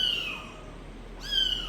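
A house cat gives two short, thin meows about a second apart, fairly faint and close against a steady background hiss, with no talking.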